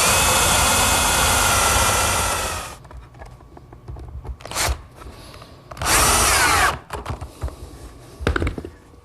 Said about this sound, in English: Drill a few holes for some screws.